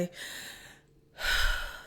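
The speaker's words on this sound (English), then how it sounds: "start to take deep breaths, and I wasn't taking breaths from my chest" A deep breath taken in demonstration: a short sharp inhale, a pause of silence, then a fuller, longer breath out, close and quiet.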